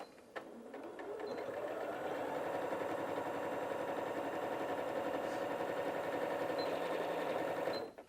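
A Janome 8200QCP sewing machine runs steadily through thick fabric with a dense, fast mechanical hum and needle rattle, starting after a brief click and holding even and close for about seven seconds before stopping.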